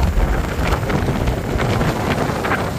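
Cold wind blows steadily across open farm fields at the foot of Mount Banahaw, buffeting the microphone with a constant rough, full-range roar and no clear breaks.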